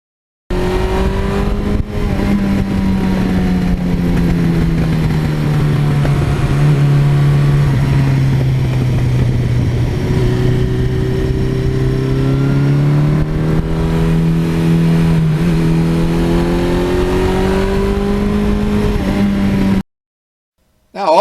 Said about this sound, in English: this engine is so flexible and so torquey down at the bottom